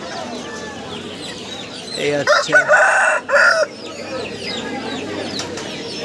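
Foreign-breed fighter chickens at a Nadia district animal and bird market, with a loud rooster crow and clucking bursts in the middle, set against market chatter and someone speaking briefly.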